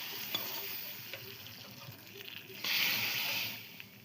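Turmeric-laced popu tempering sizzles in hot oil for a lemon moong dal rasam, a steady frying hiss that swells louder near the end, with faint stirring and a voice talking softly beneath.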